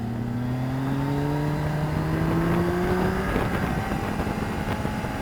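A Honda CBR1000RR sport bike fitted with wings, lapping a race track, passes with a loud, sustained engine howl whose pitch climbs steadily under acceleration, then shifts as it passes, over constant wind and engine roar.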